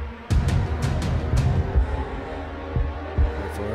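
A heartbeat effect in a song: low, steady throbbing thumps repeating under a dense music bed, with sharp percussive hits near the start.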